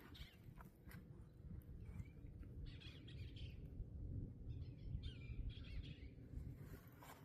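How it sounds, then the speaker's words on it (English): Small birds chirp and tweet outdoors from a power line and nearby tree, in scattered bright calls over a steady low rumble of wind or distant traffic. "Hear the birds."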